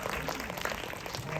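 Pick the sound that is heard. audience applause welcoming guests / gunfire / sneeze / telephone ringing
audience applause welcoming guests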